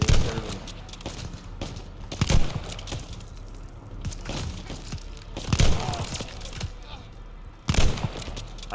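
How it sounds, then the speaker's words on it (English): Scattered gunfire bursts in the WWII shooter Call of Duty Vanguard, a handful of sharp loud shots spaced several seconds apart over a busy game-battle background with faint voices mixed in. "Open fire! Take them down!"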